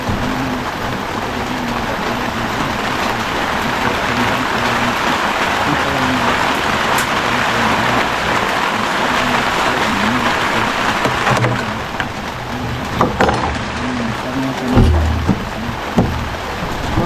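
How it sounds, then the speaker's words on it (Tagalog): Heavy rain pours down in a loud, dense, continuous hiss throughout. Occasional clatters and low rumbles break through it near the end. "Medyo maingay. Takas kasi yung ulan eh."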